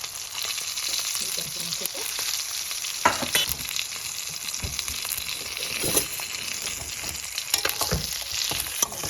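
Stuffed green chillies sizzle and fry in a pan as they are stirred, a steady crackling hiss with scraping stir strokes, no talking.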